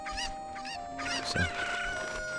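Chicken clucks and squawks from Zelda: Ocarina of Time, several short clear calls close up over a steady game background.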